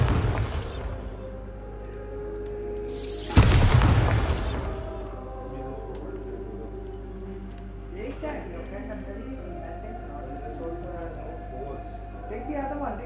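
Bombarda explosion spell from the Hogwarts Legacy video game: a single loud, sharp blast that fades over about a second, heard amid steady game ambience and a talking voice.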